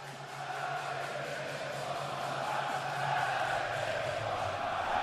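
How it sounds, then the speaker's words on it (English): A steady, rumbling crowd chant fills Skellefteå Craft Arena before the opening face-off of a Skellefteå vs Djurgården playoff semifinal ice hockey game, with sustained voices at an even level throughout. "the crowd here in Skellefteå Craft Arena already getting a chant going"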